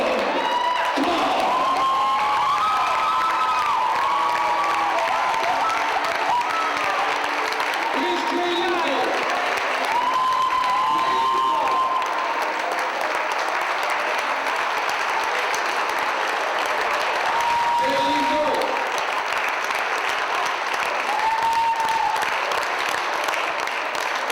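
A wrestling crowd gives Awesome Kong a long standing ovation, steady roaring applause with scattered whoops and cheers, while an announcer talks over it throughout.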